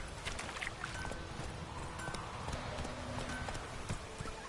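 Hooves clip-clop in a rapid, steady rhythm as a horse gallops in the video game The Witcher 3, close and constant under low ambient game sound.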